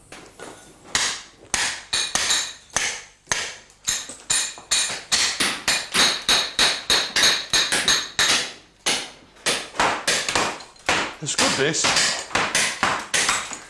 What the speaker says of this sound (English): It's normally me who has to do all the hammering.